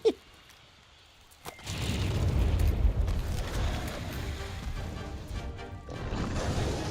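A bomb pod fired from a slinger blows up in Monster Hunter with a loud crash, followed by several seconds of roaring, rumbling blast noise.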